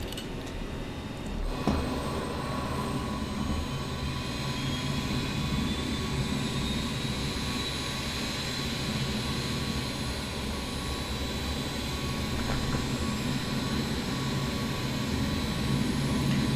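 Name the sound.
jet engine 2 spooling up on a Jumbo jet, flight simulator game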